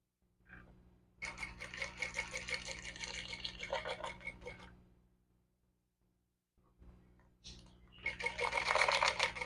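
A domestic sewing machine stitches the hem of a pant leg in two fast, rattling bursts. A short pause separates them, and the second burst grows louder toward the end.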